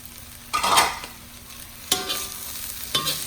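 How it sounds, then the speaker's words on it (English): Fried rice with Vietnamese and Chinese pork sausage is stir-fried over high heat: three loud bursts of scraping, tossing and sizzling, each about a second apart, with a quieter pan hiss between them. "Give this a good stir. Still on high heat. Get everything thoroughly mixed."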